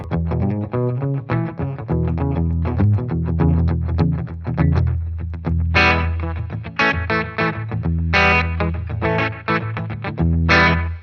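Distorted electric guitar plays a choppy riff through a slapback delay pedal, each note followed by a quick single echo, giving a tight doubled slapback repeat.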